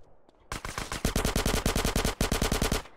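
Automatic gunfire in the GTA San Andreas video game: a sustained, loud, rapid-fire burst of evenly spaced shots with a single short break, starting after a quiet half second.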